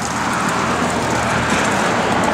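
A 1967 Chevrolet Chevelle SS driving along the road, a steady, loud, broadband rumble of engine and road noise with no pauses or voices.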